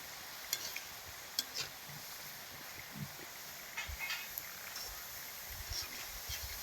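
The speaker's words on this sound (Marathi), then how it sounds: "हे चांगले तळून द्यायचे आपल्याला तेलात" Onion pakoras fry in hot oil, giving a steady, fairly faint bubbling sizzle throughout with a few sharp ticks and taps of a utensil against the pan.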